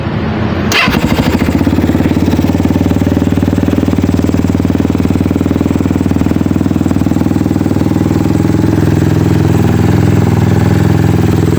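A Megelli 250cc Gen 2 motorcycle engine starts with a sharp catch, then idles loud and close with a steady, throbbing, slightly uneven exhaust rumble, and no voices.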